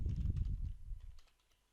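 Quick bursts of keystrokes on a computer keyboard, a close, soft clatter of several taps in rapid succession that trails off into quiet near the end.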